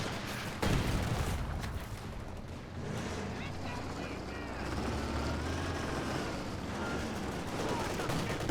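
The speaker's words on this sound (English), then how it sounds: "nice suppression from the 50 cal" Sustained heavy machine-gun suppressing fire from a .50 cal in a strategy video game, dense distant rumbling bursts and explosions under ongoing talk.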